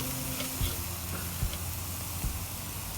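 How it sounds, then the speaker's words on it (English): Ribeye steaks sear for medium rare in a hot pan, giving a low, steady sizzle with a few soft bumps and stirring taps, fairly quiet and with no talking. "Trying to wait till I get that nice little sear on it."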